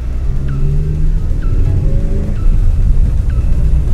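Lada Zhiguli passenger car driving across a field and out onto a road, a loud, close, continuous engine rumble with rough road and body noise.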